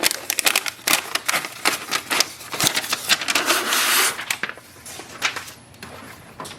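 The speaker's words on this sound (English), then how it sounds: "Just take this paper out." Paper jammed inside an Epson WF-7820 printer is pulled free, a run of close, crisp rustling and scraping bursts with a few sharp clicks, fairly quiet with no talking.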